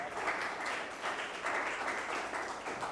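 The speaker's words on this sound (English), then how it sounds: "he deserves applause also" A faint, steady patter of applause from an audience at a formal launch event in New Delhi, distant and even, lasting a few seconds without a break.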